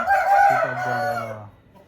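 An Aseel rooster crows once, close and loud, its call rising then trailing off into a drawn-out, wavering tone before fading to quiet.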